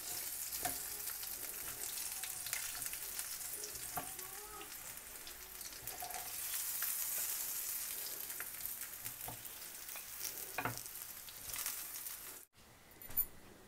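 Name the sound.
mutton chops sizzling in a frying pan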